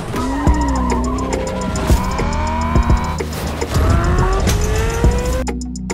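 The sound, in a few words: racing simulator car engine and tire skids, PS5 video game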